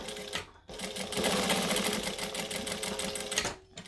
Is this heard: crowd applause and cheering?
no